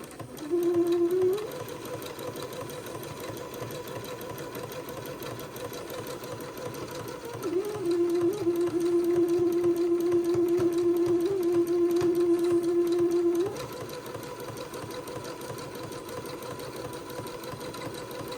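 A sewing machine stitches along a rail, with a short burst at the start, then a long, steady mechanical whir lasting several seconds before it stops and settles back to a quieter hum. No one talks.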